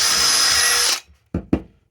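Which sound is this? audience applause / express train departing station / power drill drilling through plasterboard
power drill drilling through plasterboard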